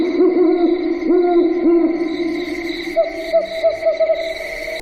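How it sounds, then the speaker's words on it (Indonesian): An owl hooting at night, a series of clear, close, wavering hoots in two bursts, then a quicker run of shorter calls, with no other sound around them. "burung hantu seolah sedang memamerkan keindahan suaranya di malam hari"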